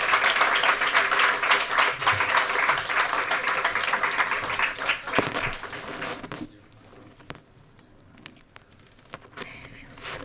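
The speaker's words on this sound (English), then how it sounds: "please give them a quick round of applause" Audience applause at a journalism award ceremony, a dense burst of clapping that fills the room for about six seconds, then falls away to scattered claps and quiet room noise.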